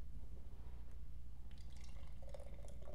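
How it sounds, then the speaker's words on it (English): Ten Bends Cranberry Contortion beer is poured into a glass, a soft liquid fizz and splash rising after a steady low hum, fairly quiet and without talk. "let's pour it up"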